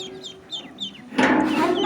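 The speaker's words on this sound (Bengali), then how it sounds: "হাঁস একটা হাঁস আছে আমার হাতের উপরে" A duckling held in a person's hand gives a series of faint, high peeping calls, followed by a louder burst of scuffling and rustling near the end.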